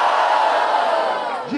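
A loud crowd at a Brazilian freestyle rap battle roars and shouts together, a dense wall of cheering voices that holds steady, then eases slightly at the end.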